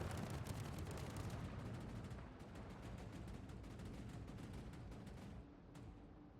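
Naval guns fire in World of Warships, a continuous heavy barrage of overlapping booms and rumbling shots, steady and dense, very quiet overall with a sharper crack near the end.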